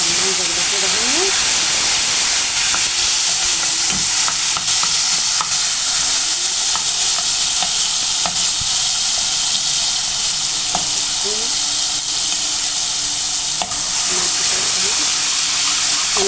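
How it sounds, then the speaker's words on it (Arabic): Oil fries loudly in a pan with tomato for Egyptian moussaka, a dense, unbroken sizzle and hiss close to the pan for the whole stretch, with faint scrapes and stirring beneath. "بتحمر في الزيت زي ما انت شايفه كده"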